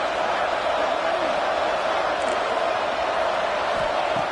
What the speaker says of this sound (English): Listen to the crowd energy here in the early going